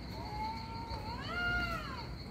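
A single cat lets out a long, rising and falling caterwaul during a fight, moderately loud over a constant background hum, with no voices.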